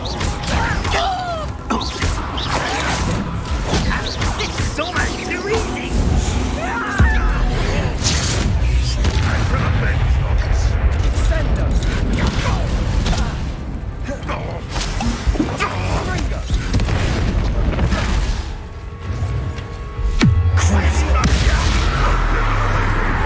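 Bombarda spell explosions in Hogwarts Legacy, repeated booms and whooshing blasts amid busy combat noise, with a voice shouting spell names over the action.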